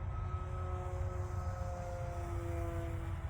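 Art-Tech Cessna 1000mm RC model plane on its maiden flight making a high speed pass, its motor a steady whining drone at moderate distance, even in level throughout with no talk.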